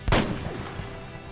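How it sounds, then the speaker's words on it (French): One distant gunshot booms out, a sharp report that rolls into a long, low reverberating tail and then fades slowly. "Vous entendez au loin un coup de feu."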